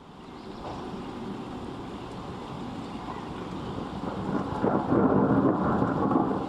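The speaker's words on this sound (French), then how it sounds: "tonnerre, foudre, ouragan, pluie" Thunder rumbling with rain and gusting wind in a cartoon weather attack by Pikachu, a dense continuous roar that swells louder toward the end, with no speech over it.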